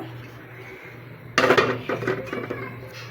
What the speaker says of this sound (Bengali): তো বাড়িয়ে দিলাম আর ঢাকনাটা দিয়ে ঢেকে দেবো